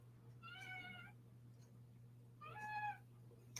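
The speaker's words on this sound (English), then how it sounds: "you're a beautiful kitten." A domestic kitten gives two short, faint meows about two seconds apart over a low steady hum in a quiet indoor room.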